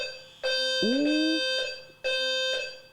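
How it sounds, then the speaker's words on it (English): A fire alarm sounds in loud, steady pulses with long on-off bursts, and a person exclaims briefly partway through. "Fire alarm going off."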